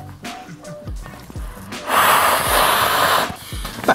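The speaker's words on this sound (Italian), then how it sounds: "il resto, come consigliano le istruzioni, lo gonfio io a bocca" A person blows hard by mouth to inflate a travel pillow, with several short breaths and snorts followed by a long, strong, hissing exhale.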